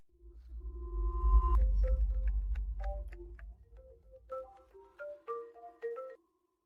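A phone call ringing out in a home, with repeated electronic tones and chirping beeps after a low rumbling start, fairly clear and unaccompanied by talk.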